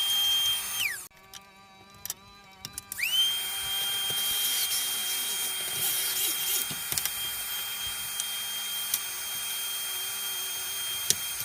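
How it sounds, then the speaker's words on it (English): A power drill bores pocket holes in wood pieces for a farmhouse bench, giving a steady high-pitched motor whine with a short break of bumps and clatter early on before running evenly again. "next we're going to do pocket holes on both ends of both pieces"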